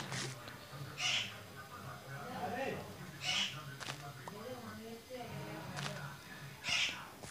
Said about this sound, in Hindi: यहाँ पे बिल्ली है।